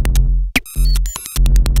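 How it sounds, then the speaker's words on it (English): Through a Meris Mercury X reverb pedal, a punchy drum machine beat plays loud and close, with sharp kicks and hits and tonal ringing tails, a short gap of dropout, then repeating hits. "my drum machine is going to sound like this."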